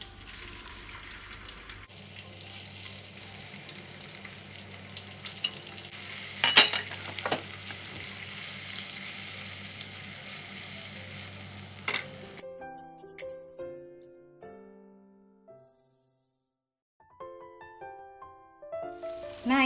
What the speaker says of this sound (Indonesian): Kemudian terinya digoreng juga.